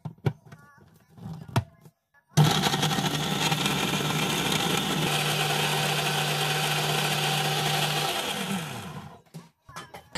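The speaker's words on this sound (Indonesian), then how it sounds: "Nah, ini kita blender terlebih dahulu." A kitchen blender purees chopped onion and chili with a little water, a loud steady whirring roar that starts abruptly after a few quiet seconds, holds evenly for about six seconds, then winds down to silence.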